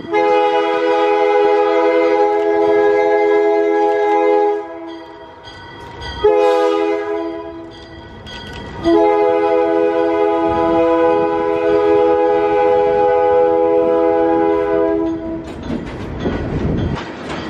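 A Buffalo Southern freight train passes a crossing sounding its horn in long loud blasts, with a short break between them, over rolling wheel noise and rail clatter nearby.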